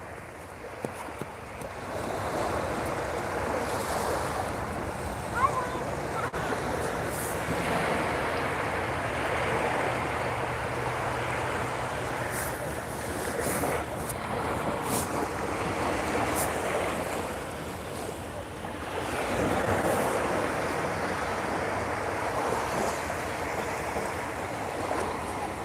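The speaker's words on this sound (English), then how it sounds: "Use the water sounds." Ocean waves wash onto the beach at Cape May, New Jersey, around sunset, a continuous surf roar that swells and ebbs over the stretch, with wind buffeting the microphone.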